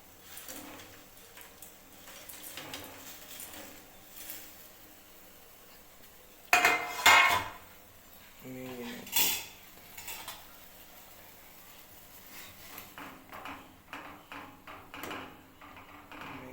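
Maggi noodles added to a pot of spiced mixture, with scattered utensil clanks and metallic scrapes, including a couple of louder clattering bursts amid quieter handling noise.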